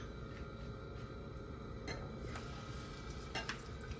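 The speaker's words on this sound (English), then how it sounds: "I'm just going to stir this till it thickens up nicely" Pineapple chicken sauce being stirred in a pan over the heat, a steady soft scraping and faint sizzle running throughout with a few light utensil clicks against the pot.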